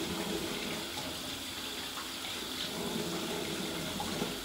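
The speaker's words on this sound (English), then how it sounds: "I like to just get in the sink. I like to use warm water." Warm water running steadily from a tap into a bathroom sink, a continuous soft rushing splash at low level with no talking.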